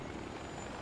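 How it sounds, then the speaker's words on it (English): A helicopter in the Far Cry 4 video game gives off a steady, dense, whirring rotor and engine roar that fills the short moment without a break. "That's a helicopter."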